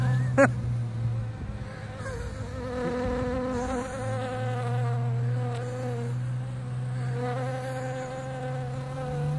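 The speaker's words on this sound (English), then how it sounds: "There's a lot of wasps." Wasps buzz close by in a loud, sustained whine, with one sharp burst near the start, then a steady droning hum that rises and falls slightly as they hover around.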